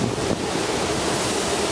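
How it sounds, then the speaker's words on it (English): Strong wind gusts during Hurricane Sandy roar as a loud, dense, unbroken rush buffeting the microphone for the whole brief moment. "I don't think I've ever seen wind like this in my life."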